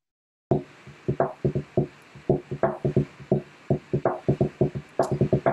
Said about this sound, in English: which is actually created by me just tapping on the table in front of my microphone